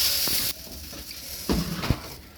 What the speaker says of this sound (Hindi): डाल रहे हैं दाल को तड़का